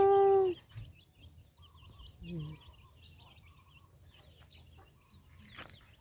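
Free-range chickens cluck softly at roosting time, scattered low murmurs and short calls spread over several seconds, with a brief louder tonal sound at the start and faint distant voices in the background.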